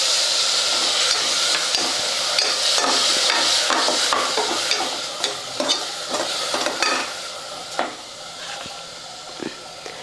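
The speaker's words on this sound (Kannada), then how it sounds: "ಇದನ್ನೆಲ್ಲ ಚಲೋ ಹೊತ್ತಿಗೆ ಮಿಕ್ಸ್ ಮಾಡ್ಕೋತೀನಿ." Rice bath mixture with curd stirred in a hot pan, a loud close sizzle with repeated scraping strokes of a spatula that gradually quiets toward the end.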